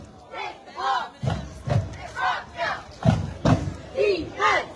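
A high school football crowd in the stands chants and shouts in loud rhythmic bursts, roughly one surge per second, with booming low thumps under the voices during the first quarter of a night game.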